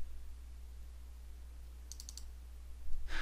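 A computer mouse clicks while navigating Windows Explorer folders: a quick, quiet burst of about four crisp clicks midway through, then a short brighter tick at the end, over a faint steady hum with no talking.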